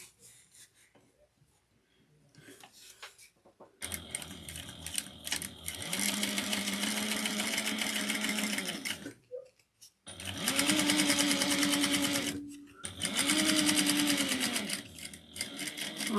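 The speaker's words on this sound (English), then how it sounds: "we're going to sew this at all throughout layers at 1/4 of an inch" A sewing machine stitches through several fabric layers at a quarter-inch seam. After a quiet start it runs in bursts: one long steady run, a short pause, then two more runs, each revving up and winding down, close by.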